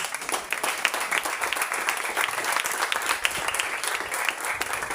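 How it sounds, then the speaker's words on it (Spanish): A church congregation applauds continuously during a sermon, dense clapping holding steady for several seconds without any voices standing out. "¿Cuántos aplauden a Jesús?"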